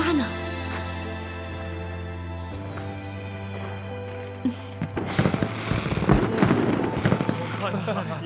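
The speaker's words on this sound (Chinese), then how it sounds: "怎么会有烟花呢？" Fireworks burst and crackle in quick irregular pops during the second half of a historical fantasy drama scene, loud and dense after a steady tonal music bed fades.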